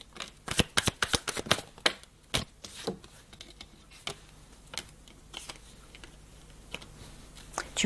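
Tarot cards are shuffled close by in quick riffling bursts, a rapid flurry of crisp flicks at first, then slower scattered snaps spaced through the rest, with no voices.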